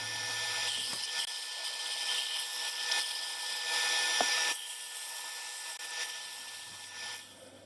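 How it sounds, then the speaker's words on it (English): Wood sanded down by hand, a continuous dry, scratchy rubbing with steady back-and-forth strokes, close and fairly loud, with no voices over it. "I'm going to do some sanding down and some cleaning up"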